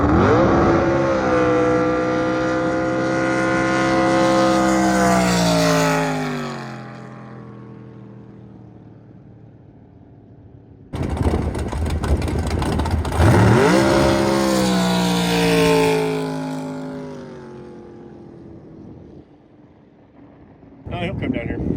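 Loud, close jet boat engine roaring at high speed, its pitch sliding downward as it eases off, then cutting out. It rises again in a second surge and fades, with voices speaking in between.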